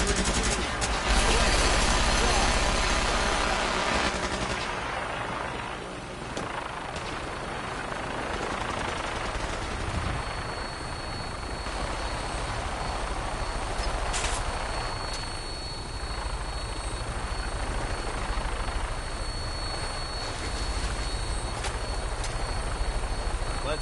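Fallout 4 Vertibird engine spooling up for takeoff: a loud, continuous rotor-like roar with whining turbine tones fills the whole stretch, with bursts of gunfire-like crackle layered in.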